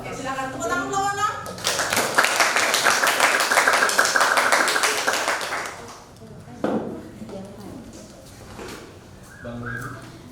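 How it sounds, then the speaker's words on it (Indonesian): Classroom applause for a student group presenting on tantra, yantra and mantra: a dense burst of many hands clapping for about four seconds, with talk just before and scattered voices afterward. "silakan tepuk tangan kelompok 6"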